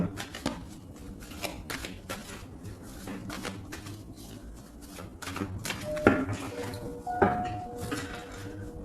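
Tarot cards being cut and handled on a table, a series of soft crisp card slaps and shuffling clicks, close and moderately loud, with a couple of sharper snaps near the end.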